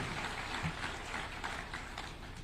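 Applause from a teachers' and university lecturers' gathering after a music performance: steady, dense clapping from a large crowd, moderately loud and even throughout, with no talking over it.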